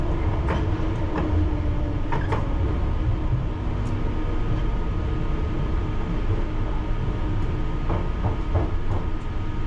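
A London Underground Piccadilly line train running through tunnels, a loud continuous rumble with steady wheel noise and occasional rattling clicks from the carriages.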